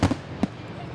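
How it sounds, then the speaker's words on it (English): Fireworks for a Fourth of July celebration at Lake Manawa State Park go off in two loud bangs. A voice talks quietly in the background. "We have everything you need to know about fireworks before celebrating this holiday."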